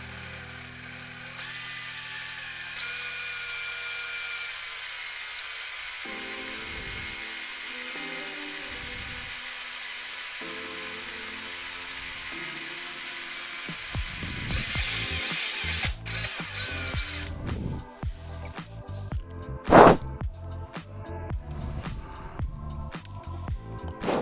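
A power drill whines continuously as it bores through the bottom panel of a Pac-Man-themed arcade cabinet, the tone shifting as the bit works, then breaking into rattling, clunking bursts near the end; no one speaks.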